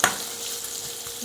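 Onions sizzle in a pan in a home kitchen, with a brief clink of the spatula at the start and a soft continuous frying hiss after, close and quiet.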